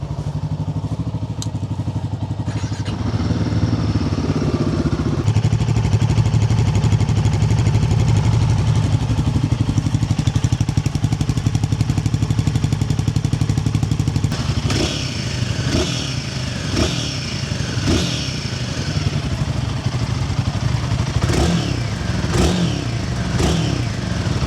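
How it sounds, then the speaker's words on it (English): A Royal Enfield Himalayan 450 motorcycle with a decat link pipe idles with a rough, loud rumble, then the throttle is blipped repeatedly in sharp revving bursts, harsh and close. "on tick over, there is a noticeable difference, but as soon as you start revving the bike with the decap exhaust"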